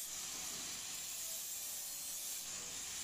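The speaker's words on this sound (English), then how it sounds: "our engineers are grinding sheet metal parts with an angle grinder" Angle grinder grinding welding flux off sheet metal parts, a steady bright hiss that holds at an even level for the whole stretch without a break.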